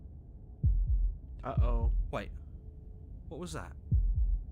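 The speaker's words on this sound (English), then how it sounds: "That was the sound of a heartbeat." A heartbeat in the video game Slay the Princess: deep, soft double thumps recur a few times, spaced apart, while someone speaks over them.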